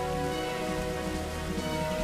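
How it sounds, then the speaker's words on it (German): Rain in the video game Pokémon Black, a dense, continuous hiss of falling rain layered with a steady looping background tune, even in loudness throughout, with no voices. "Es regnet hier."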